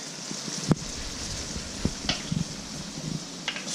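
Garlic sizzles in a pan with ground beef, a soft steady frying hiss broken by scattered clicks and scrapes of stirring, close and fairly quiet with no voices.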